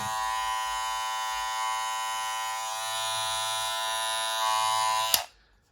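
A Monster Fade Blade electric hair clipper, rated at 6,500 RPM, runs with a steady close buzzing whine for about five seconds before a click and it shuts off, leaving near silence.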